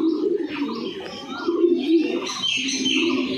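Domestic pigeons kept at a home loft coo in low, rolling throaty calls, several birds overlapping close by with faint chirps mixed in.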